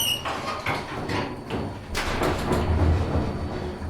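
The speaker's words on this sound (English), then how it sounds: "the door closes." Door of a modernized US hydraulic scenic elevator at the Park Avenue Garage in Tucson, Arizona, sliding shut with a series of rumbling mechanical thuds and a low hum, close and fairly loud.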